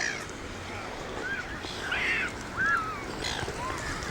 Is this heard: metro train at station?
no